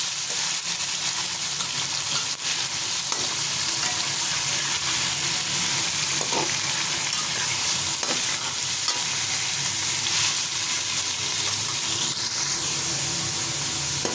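Boneless chicken pieces fry in a kadai with a cup of hot oil, giving a loud, steady, close sizzle with faint stirring scrapes throughout and no talking.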